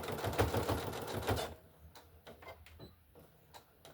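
A home sewing machine runs in a quick, loud mechanical rattle for about a second and a half while back stitching, then stops, leaving a few soft clicks and taps in a quieter room.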